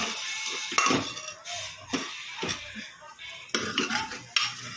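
Vegetable curry being stirred and cooked in a pot, with a spoon scraping and clinking against the metal in irregular bursts, some sharp knocks standing out close by.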